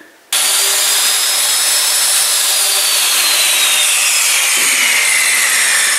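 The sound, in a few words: saw cutting plywood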